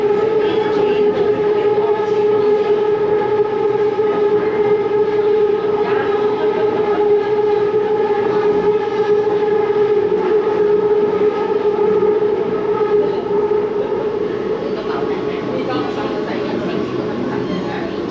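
A Bangkok MRT Blue Line metro train runs steadily with a continuous droning hum and whine heard from inside the car, with a voice speaking over it.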